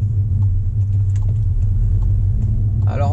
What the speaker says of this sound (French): Derrière, il y a des coups de tonnerre à chaque passage de rapport.